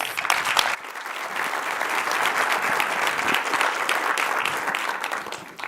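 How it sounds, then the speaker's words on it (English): A conference audience at a cancer genomics forum gives a speaker a sustained, dense round of applause that stays steady and fairly loud throughout with no talk over it. "So give him a big round of applause, Professor David Thomas."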